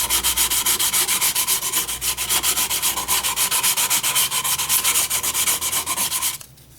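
Loud, rapid rhythmic rasping of sandpaper against a punky sycamore pedestal bowl spinning on a lathe, steady throughout, then abruptly stopping near the end.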